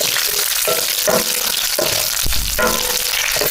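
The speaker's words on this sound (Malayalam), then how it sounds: "ഇനി ഒന്ന് ഇളക്കി കൊടുക്കുക." Jackfruit chips frying in a pan while being stirred: a steady, dense sizzle broken by several rhythmic scraping strokes, close and moderately loud, with no talking.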